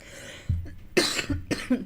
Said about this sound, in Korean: 기침이 나와서 방송을 못하겠네요.